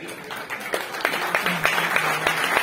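A crowd at a poetry gathering applauds a poet, a fairly close, moderately loud patter of clapping with some distinct claps, and faint voices mixed in.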